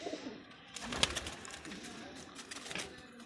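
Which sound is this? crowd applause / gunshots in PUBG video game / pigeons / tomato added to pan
pigeons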